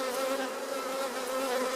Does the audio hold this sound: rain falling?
no